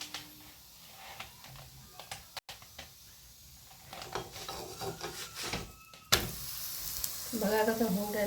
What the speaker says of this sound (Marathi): छान पराठा असा खरपूस भाजून घ्यायचा दोन्ही बाजूनी